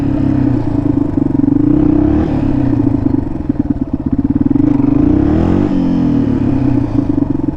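A low-power single-cylinder motorcycle engine runs loud and close, rising and falling through a few short revs with a throbbing, rattling idle between.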